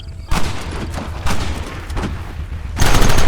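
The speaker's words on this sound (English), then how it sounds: "There they are! Open fire!" Rapid bursts of gunfire crackle in a Red Dead Redemption shootout, a dense volley opening hard, thinning into scattered shots, then swelling again near the end; loud and close with no talk.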